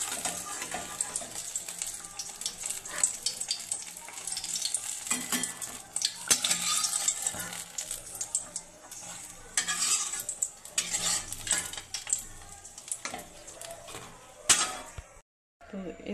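Eggplant slices sizzling and frying in a pan, with steady broadband crackle and repeated scrapes and clinks of a utensil stirring and lifting pieces, fairly close throughout.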